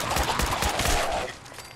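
A carbine-like .308 rifle in Fallout 4 fires a rapid burst of about five loud, evenly spaced shots, then the sound tails off into a fading echo.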